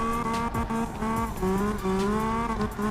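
A 2020 Toyota Supra in the CarX Drift Racing game holds a loud, continuous drift, the engine note rising and falling through gear changes while the tires squeal steadily underneath.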